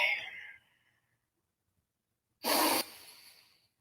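A single deep, airy inhale during a guided breathing exercise, loud and close, following a stretch of near silence.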